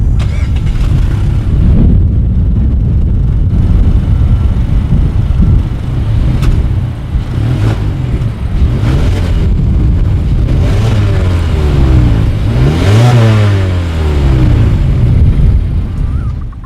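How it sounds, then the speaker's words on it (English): A new Mazda 3's exhaust rumbles at idle, then revs several times with rising and falling roars, loud and close, with no voices. "As always, here is that exhaust clip."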